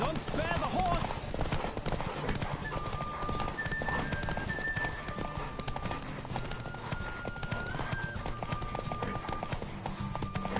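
Horse galloping in The Witcher video game, rapid rhythmic hoofbeats on the ground continuing throughout, with game music and a voice urging the horse on over them.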